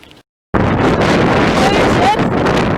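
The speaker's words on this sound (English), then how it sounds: "It's very windy!" Loud, blustery wind buffeting the microphone with a heavy roaring rumble after a brief quiet gap at the start.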